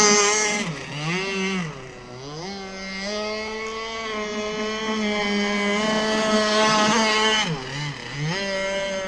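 A Zenoah marine engine drives a boat on a test run, its loud, steady harmonic drone rising and dipping in pitch as the throttle changes, with no voices over it.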